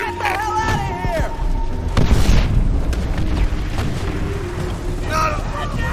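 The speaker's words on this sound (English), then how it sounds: "Rocket strike primed and ready to fire!" Heavy booms of a rocket strike explosion roll through a Call of Duty: World at War battlefield, deep rumbling blasts layered with scattered gunfire and shouted voices over the noise.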